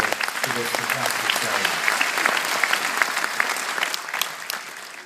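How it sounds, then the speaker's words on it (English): Guests at an Irish citizenship ceremony in Dublin break into sustained applause. The dense clapping from a sizable crowd fills the room, with a voice speaking briefly over the start. "your presence here today deserves a big round of applause from those who have accompanied you to this fantastic"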